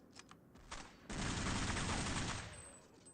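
A sustained volley of gunfire from the Xbox port of Counter-Strike on the original Xbox, with a few scattered shots first, then a dense, continuous burst of automatic fire that fades away.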